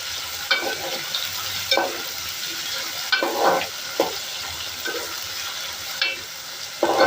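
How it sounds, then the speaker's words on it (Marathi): Dried bagi fish frying with onion in oil, a steady soft sizzle with intermittent stirring scrapes and clinks recurring every second or so, close and moderately loud with no voices. "तेला कांद्यामध्ये अशी थोडी फ्राय करून घ्यायची"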